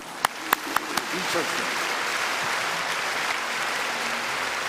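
At a memorial ceremony, a few sharp early claps swell quickly into sustained, dense applause from a large audience, filling the hall evenly without any talk.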